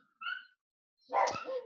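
Dogs bark at close range, a thin high yelp followed after a pause by a louder, rougher bark, with no talking over them.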